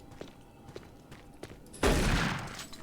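A loud burst of gunfire erupts in Doom 3 BFG Edition inside a bathroom area, following a few faint footsteps, then decaying over about a second.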